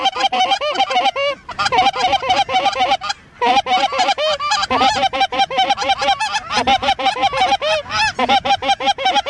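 A big flock of geese honks loudly and continuously during a waterfowl hunt, with many overlapping calls close and far, and no talking.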